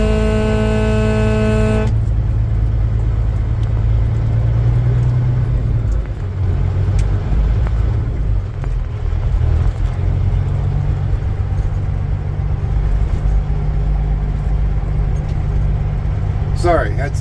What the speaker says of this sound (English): had some kids that said honk the horn, honk the horn.